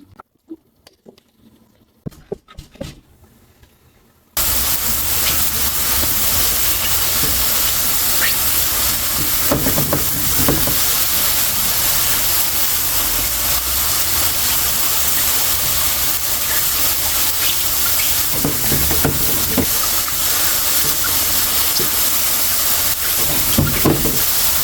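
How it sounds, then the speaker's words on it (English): Mushrooms sizzle in avocado oil in a pan during a light stir fry, a steady loud frying hiss with patter running almost the whole time after a quiet start, with occasional stirring clatter. "We are going to lightly stir fry mushroom to evaporate all moisture from mushroom"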